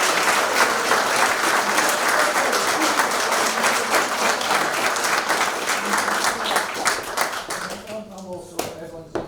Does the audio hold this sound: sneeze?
no